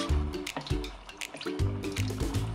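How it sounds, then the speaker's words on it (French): Soy sauce is poured into a pot of ramen broth base with sake and mirin, a close, quiet series of liquid glugs and drips in short uneven bursts. "Versez la sauce soja salée."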